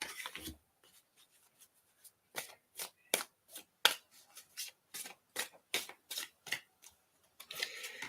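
Playing cards are shuffled up close in a run of crisp, quick riffles and snaps, repeating in uneven bursts with short pauses between.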